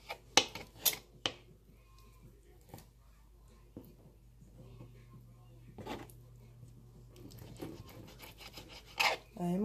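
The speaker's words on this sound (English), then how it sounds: "I'm chopping up my chicken" Sharp knife strikes tap against a cutting board chopping chicken, a few quick chops then scattered scraping and clinks, with faint talk in between.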